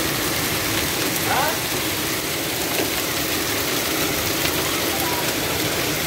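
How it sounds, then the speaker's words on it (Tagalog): Hail falls in Riyadh with a dense, steady clatter that runs without a break. A low engine-like hum sits underneath, and a voice can faintly be heard. "umuulan ng yelo sa amin"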